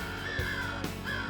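Crow calls come over woods near a hunting blind in Michigan outdoors, a couple of harsh caws rising clearly above steady background noise.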